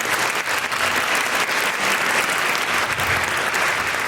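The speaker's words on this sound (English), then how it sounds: "one more applause for the headless horseman." An audience at a high school spring band concert claps steadily, a dense, even wash of applause throughout, with no voices standing out.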